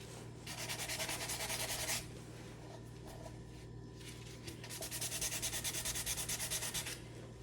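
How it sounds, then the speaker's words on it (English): Sandpaper rubbing by hand across a polyacrylic-coated wooden Lazy Susan, two loud bursts of steady back-and-forth scratching separated by a quieter pause, close up with no talk. "I got a piece of sandpaper around."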